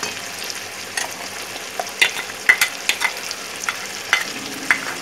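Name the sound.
ginger-garlic and onion paste being fried and stirred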